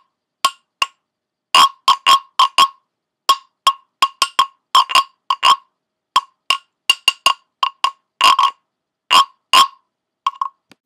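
A series of short, hollow wooden rasps from a scraped wooden frog instrument, irregularly spaced and bunched in quick pairs and runs, played alone with no talking, like a frog croaking.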